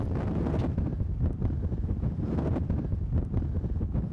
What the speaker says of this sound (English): The wind is now gusting up to 45 kilometers an hour.